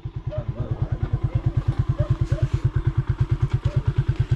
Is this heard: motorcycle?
yes